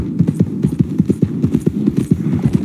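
Horse hooves clip-clop in Red Dead Redemption 2 at a steady walking pace, loud and close, with an even rhythm of thuds throughout and a faint hum underneath.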